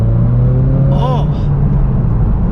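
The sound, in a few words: Subaru BRZ car accelerating on track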